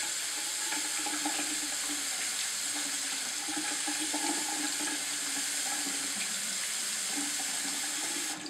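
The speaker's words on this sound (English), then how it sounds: "the water coming out of my tap is about 45 degrees centigrade, or about 110 degrees Fahrenheit" Hot water runs steadily from a household tap in a continuous hiss and splash, moderately loud and unbroken, with no voices.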